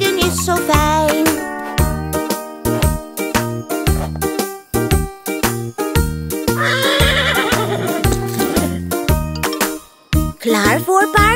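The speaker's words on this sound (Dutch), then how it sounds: "Ik loop hier met mijn paard, ik loop hier met mijn paard." Bouncy children's song about horse riding, with loud rhythmic clip-clop hoofbeat percussion and a whinnying horse sound blended into the music.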